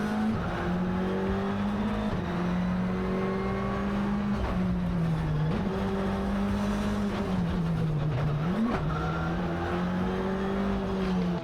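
A Subaru WRC rally car runs flat out along long straights, its engine holding a steady loud drone with brief dips and rises in pitch between gears, continuous and fairly close throughout.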